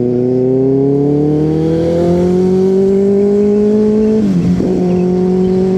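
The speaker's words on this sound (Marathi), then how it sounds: "जीवनात पहिल्यांदा ZX 6 चालवतोय भावांनो" A Kawasaki ZX-6 motorcycle ridden on the road, its engine droning loud and close with a steadily rising pitch as it accelerates, then a brief dip and recovery at a gear change.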